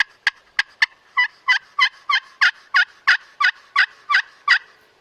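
A glass turkey call yelping and cutting, a rapid series of about fifteen loud, sharp, evenly spaced clucks and yelps, close and alone.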